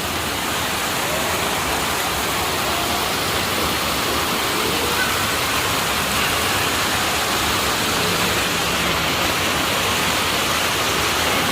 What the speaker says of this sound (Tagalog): Oh, there's a nice fountain here, look.